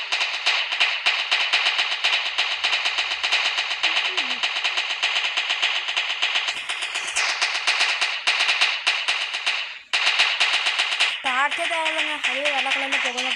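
Rapid, dense crackling bursts of fireworks in the video game Fireworks Play run almost nonstop, like strings of firecrackers going off, with a brief break and electronic tones near the end.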